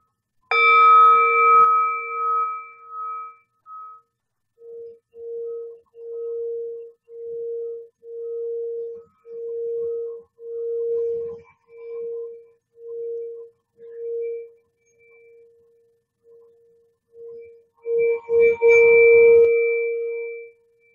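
A factory-made singing bowl for the crown chakra is struck once, leaving a bright ringing tone, then rubbed into a steady, pulsing hum that swells and fades in slow waves before a second louder ring near the end.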